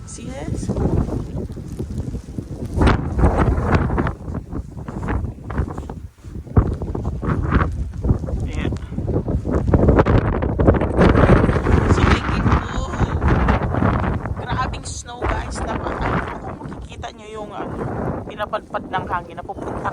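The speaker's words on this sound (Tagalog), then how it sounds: "Pinapadpad ng hangin na pupunta sa mukha ko." Strong snowstorm wind in the Netherlands, 2021, buffeting and roaring across the microphone in heavy, uneven gusts that rise and fall, with a person talking beneath the blustery noise.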